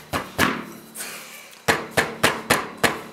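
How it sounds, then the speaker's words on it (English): Sharp knocks of a rubber hammer on the metal valve cover of a 2001 Kawasaki KLR 650 engine, about eight blows in an uneven rhythm, loud and close, with short ringing after each strike. "I'm gonna tap it with a rubber hammer"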